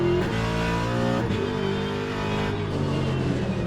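A Ford Mustang race car in the Le Mans Ultimate racing game on the 24 Hours circuit, its engine droning loudly and steadily, with pitch shifts as it accelerates and a brief dip near the start, continuous throughout.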